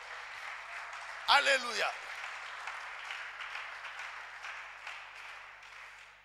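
A church congregation applauds steadily with broad, continuous clapping that fills the whole stretch, while a single voice calls out briefly over the applause.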